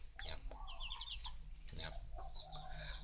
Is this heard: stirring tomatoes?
no